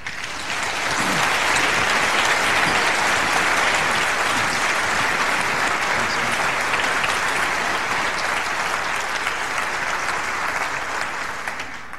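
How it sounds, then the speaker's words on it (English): Sustained, loud applause from a large conference audience, steady clapping filling the whole stretch without a break. "actually get some applause"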